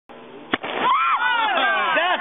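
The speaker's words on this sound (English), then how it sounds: "here's some old and new footage of the cannons" A carbide cannon fires once, a single sharp, loud bang early on, followed by voices talking over the outdoor scene.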